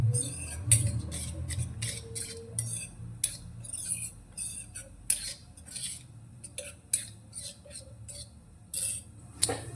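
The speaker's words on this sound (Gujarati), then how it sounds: "અને બધા જ મસાલાને પાણીની અંદર સારી રીતે મિક્સ કરી લઈશું." A metal spoon stirring ground spices such as coriander-cumin powder into water in a bowl, with a string of irregular, sharp clinks and scrapes against the bowl, close and fairly quiet, with short pauses between strokes.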